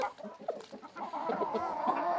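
A rooster clucking nearby in short, throaty bursts that grow busier and more continuous toward the end.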